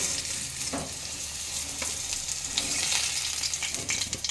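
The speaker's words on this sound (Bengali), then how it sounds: "আলুগুলো তুলে নিয়ে এই তেলের মধ্যেই আমরা ভেজে নেব বড়িগুলো" Lentil dumplings (bori) frying in the same oil just used for potatoes, a loud continuous sizzle with crackling bursts and occasional stirring scrapes, heard alone without talk.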